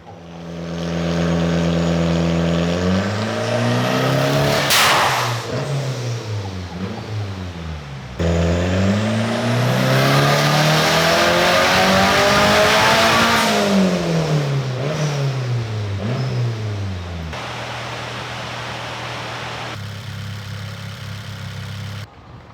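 A turbocharged K24-swapped Subaru BRZ widebody on a dyno, revving up hard through the gears with climbing engine notes, brief lifts between pulls, then settling to an idle.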